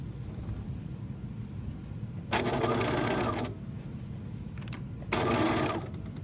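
Sewing machine basting around a button-up shirt collar at a 5/8 inch seam, running in two bursts of a second or so each, separated by pauses with only low background noise.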